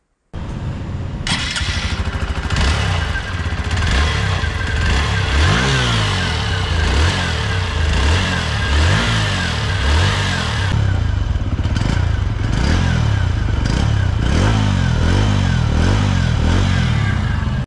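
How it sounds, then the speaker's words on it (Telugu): A TVS Sport motorcycle engine starts up and runs close by, its single-cylinder exhaust beating steadily with a few revs partway through, then settling back to an even, throbbing idle with no talk. "ఈ బైక్ యొక్క ఇంజన్ బీటింగ్ అయితే ఒక్కసారి వినండి"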